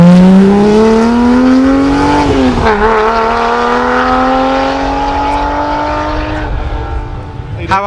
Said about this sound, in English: It's a QT Wildcat, so normally on the Dakar rally, stuff like that